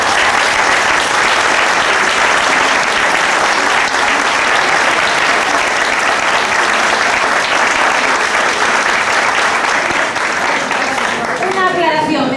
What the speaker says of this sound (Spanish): pido un aplauso muy especial para todos